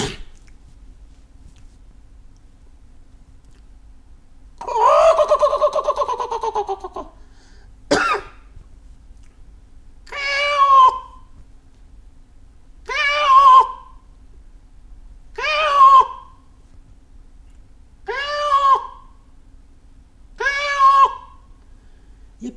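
A human voice imitates a peacock's call, first one long drawn-out cry, then a series of about six evenly spaced, loud two-part calls, close and alone against a quiet background.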